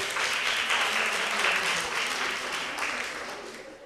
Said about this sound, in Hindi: भरपूर तालियां हमारी बेटी के लिए